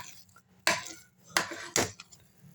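Wheat pongal being stirred in a pot with a ladle: three distinct scraping, knocking strokes against the pot stand out over a faint, quiet background, with no talking.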